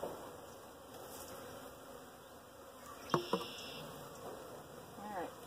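Package honey bees buzz continuously during installation into a new hive, a close, dense hum of many insects with a couple of brief knocks partway through.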